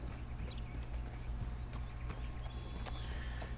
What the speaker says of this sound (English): this here is my horse Blood.